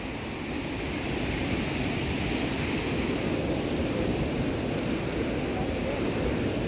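Sea waves washing along the shoreline at Binmaley Beach, a steady, loud broadband roar of surf mixed with wind buffeting the microphone, continuous with no clear break between waves.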